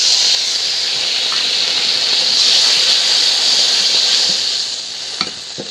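Ground mustard and red chili spice paste hits hot oil in a frying pan along with water for a small-fish curry, producing a steady, loud hiss that eases off slightly near the end.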